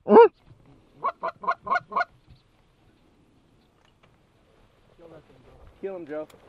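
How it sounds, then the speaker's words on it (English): Canada-type goose honks during a goose hunt in North Dakota fog, a quick series of five sharp honks after a single call, with people talking faintly later. "That is a big goose there"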